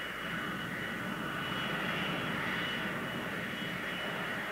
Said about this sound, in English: These development engines are already under test.